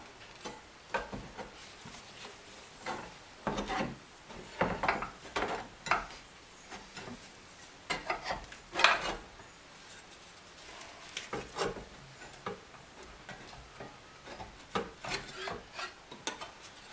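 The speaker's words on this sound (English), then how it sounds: "So I'm going to see if I can't get a ratchet on the crank bolt." A ratchet worked by hand on the crank bolt of a neglected 1975 C3 Corvette engine, giving irregular scraping, clicking strokes close up, with short bursts and pauses of effort and no talk.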